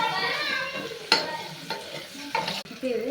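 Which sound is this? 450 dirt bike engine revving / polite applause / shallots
shallots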